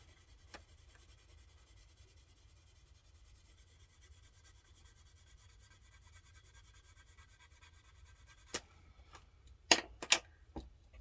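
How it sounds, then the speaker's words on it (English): A white colored pencil blends over paper in a soft, continuous scratchy rub close to the microphone, then a few louder sharp strokes or taps near the end. "I'm going to take this white pencil, do the blending."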